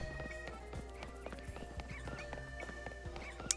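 A Go-Goat mount trots in Pokémon Legends: Z-A, its hoofsteps clip-clopping in a steady, fairly quiet rhythm over soft game ambience.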